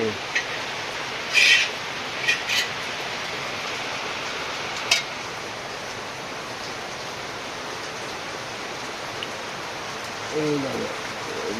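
Steady rain falls in a dark, stormy setting, a continuous hiss throughout with a few brief sharper sounds near the start and faint voices near the end.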